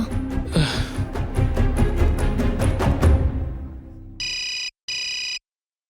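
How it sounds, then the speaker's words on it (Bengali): A telephone rings in two short, loud electronic bursts after a stretch of noisy background, the second ring cut off quickly. "ফোন বাজছে তুলছে না কেন"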